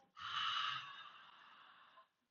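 A single audible breath exhaled during a breathing exercise for low front rib flare comes out as a soft, airy rush. It lasts about two seconds, close and clear, fading gently at the end with no talking.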